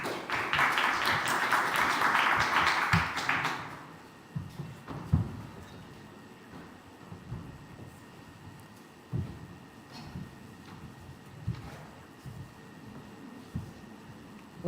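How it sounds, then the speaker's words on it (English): Audience applause at a climate and agrifood conference on gender inequality, a dense burst of clapping for about four seconds that then stops abruptly, followed by faint room noise and scattered knocks. "A round of applause for them."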